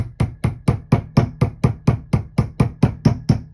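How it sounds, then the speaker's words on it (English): A hammer taps a 1/16 inch punch to drive a roll pin out of a Kimber K6s revolver frame, about fourteen sharp, evenly spaced metallic knocks, close and loud, with no talk. "tap, tap, tap, tap, tap, tap, tap, tap, tap. Gentle taps until the little roll pin"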